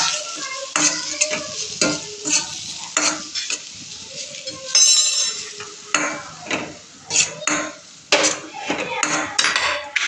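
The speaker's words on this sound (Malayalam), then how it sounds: "അതിനുശേഷം ഇഞ്ചി വെളുത്തുള്ളി ചതച്ചത് ചേർക്കുക. ഇത് ചേർത്ത് നല്ലതായി" Crushed ginger and garlic added to softened onion and sautéed in a pan for a masala pasta: a spoon scrapes and stirs in repeated strokes over a steady sizzle, with clinks of utensil against the pan, close and fairly loud, and no talk.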